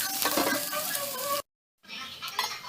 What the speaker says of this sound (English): add your chopped garlic and chopped onions and saute them for another 1 to 2 minutes